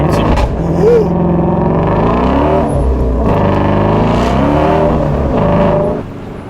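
A Ford Mustang Shelby GT350 engine revs hard from inside the car, its loud, rough tone climbing and dropping through several pulls before easing off at the end.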